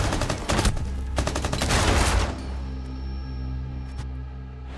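Rapid bursts of gunfire in a competitive shooter match, dense back-to-back shots for about two seconds, loud and close, then cutting off into a quieter background hum.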